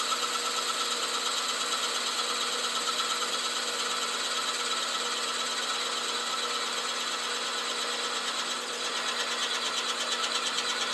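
A drill bit bores steadily into a wooden pen blank, a continuous dense whirring drone with even pressure that holds at a constant level for the whole stretch, with no voices.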